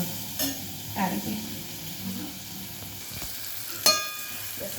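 Guava curry cooking in hot oil in a pan gives off a quiet, steady sizzle, with a few soft clinks and stirring sounds on top. It stays faint in the background.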